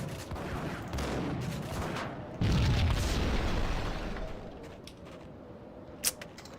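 A loud burst from an oxygen tank explosion in the video game Max Payne, a heavy boom rising partway through with lingering rumble, followed by a quieter sharp pop near the end.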